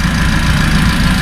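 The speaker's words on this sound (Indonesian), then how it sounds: "Seperti ini kondisi mesinnya ya. Kondisi mesin Avanza 1500." A Toyota Avanza 1500 four-cylinder engine idling with the hood open, a loud, steady, even rumble heard up close and alone.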